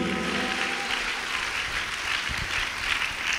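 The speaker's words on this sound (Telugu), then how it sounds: "చప్పట్లు కొడి దేవుడు మహిమపడతాం గట్టిగా మరొకసారి సంతోషంగా కొట్టాలి" A church congregation claps together in a dense, sustained round of applause that stays even and full, heard from within the crowd without speech.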